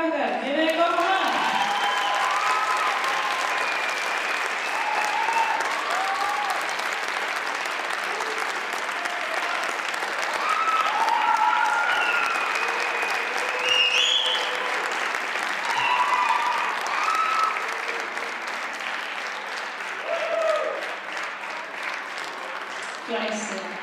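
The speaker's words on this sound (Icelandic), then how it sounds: "gefið þeim gott klapp" A crowd applauds and cheers for children at a team gymnastics meet, dense clapping sustained for over twenty seconds with scattered voices and whoops mixed in, loud and steady throughout.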